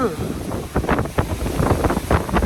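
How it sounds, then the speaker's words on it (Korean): Strong wind gusts buffet the microphone outdoors on an empty street in Milan, a loud, continuous rumbling roar with repeated surging bursts throughout. "바람 진짜 많이 분다"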